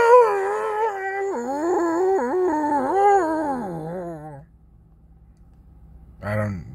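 A human voice imitates a squanch mating call with a long, wavering, dog-like howl that rises and falls for several seconds, then trails off into near silence before a brief closing yelp.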